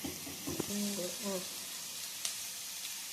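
Onions sizzle and fry in a pan for a chicken curry while being stirred, a steady close hiss with scraping stir strokes, and a voice talks briefly over the start.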